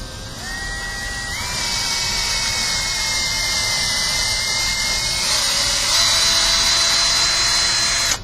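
Power drill boring holes in wood for a joint, a steady close whine rising in pitch partway through and cutting off abruptly at the end, with no talk.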